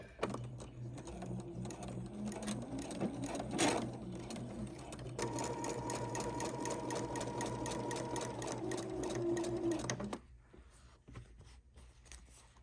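A sewing machine stitching quilt block seams runs in a fast, steady whir for several seconds, pausing briefly, then stopping abruptly, close and clear with no talk.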